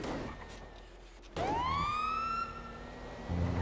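A police car siren in a video game starts abruptly after a second of low background, rising in a clear wailing sweep, fairly faint overall.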